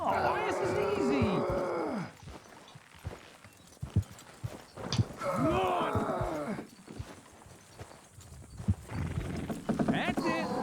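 Horse hooves clip-clop in Red Dead Redemption 2 alongside neighing and whinnying, with a voice talking over the animals; bursts of hoof and horse sounds come in waves between stretches of speech.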